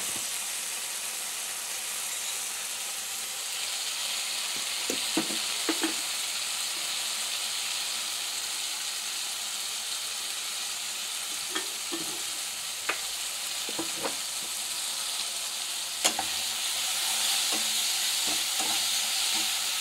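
Cauliflower and potato curry sautéing with turmeric and chilli powder, a steady soft sizzle with scattered scraping clicks of a spoon against the pan, no voices.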